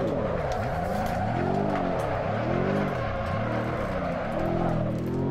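Tires squeal continuously as a car drifts in the racing simulator Assetto Corsa, with a loud engine note rising and falling through repeated sweeping pitch changes, steady and close with no talking.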